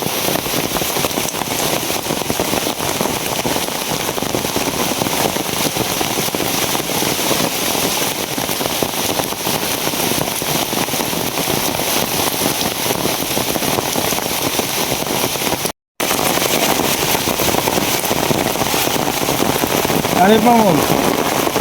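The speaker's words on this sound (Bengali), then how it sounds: "ওই যে দেখেন বৃষ্টি, নদী তো ভরা, বৃষ্টি শুরু হয়েছে প্রচুর।" Heavy rain pours steadily beside a full river in the late afternoon, a dense continuous hiss with a brief cutout near the end, while a man calls out once.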